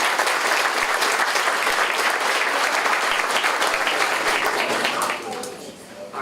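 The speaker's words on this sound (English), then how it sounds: "Give yourselves a round of applause." Loud, sustained applause from a luncheon audience at a chamber of commerce awards event fills the room with dense clapping, then thins out and fades toward the end.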